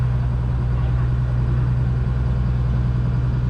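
The engine of a chartered squid-fishing boat off Pattaya runs in a steady, low, droning hum, constant and unchanging, with no talk over it.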